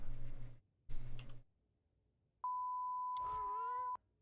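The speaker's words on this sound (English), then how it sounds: "There's your beep. Enjoy your beep." A single steady electronic beep played as a sound effect on a livestream, sustained for about a second and a half after two bursts of noise, with a brief cat-like yowl overlapping its end.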